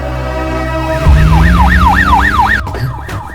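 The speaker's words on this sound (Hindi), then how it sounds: "ये तो पुलिस का सायरन है।" A loud wailing siren rises and falls in steady repeated sweeps over rumbling traffic noise, then cuts off abruptly near the end.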